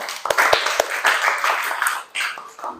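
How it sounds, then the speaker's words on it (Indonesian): Scattered hand clapping from a small group, a few sharp claps at first, then thinner clapping mixed with voices. "tepuk tangan buat Elsa saya"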